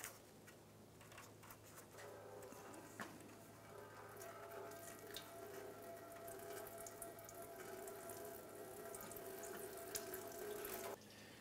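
Fluid drains from the radiator drain plug of a 2006-2013 Chevrolet Impala in a steady trickling pour, faint and continuous, with light ticking drips and no voices.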